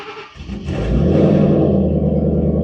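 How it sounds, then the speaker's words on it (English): A Shelby GT500 Dark Horse V8 cold starts: a brief cranking whir, then the engine catches with a loud rumbling flare and settles into a deep, steady idle close by. "we're going to go ahead and hear a cold start of the Shelby GT500"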